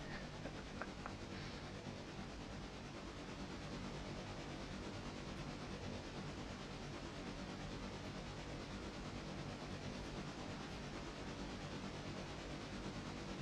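Passenger train rolling on rails in the video game Railroader, a steady broadband rumble and hiss with faint clicks, continuous and even throughout.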